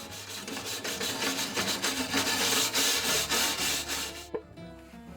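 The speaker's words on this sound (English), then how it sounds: "For this, a wire brush is the best tool." A wire brush scrubs oxidation off the outside of a gas grill firebox in quick, repeated rasping strokes that sound close and fairly loud, then stop abruptly near the end.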